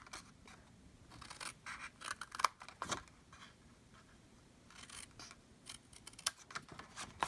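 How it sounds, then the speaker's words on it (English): Small cuts made with scissors into paper flaps of a treat holder, a series of quiet close snips and crisp paper rustles in irregular bursts. "cut just a little smidge on each flap, and it'll just make it fold in a little easier"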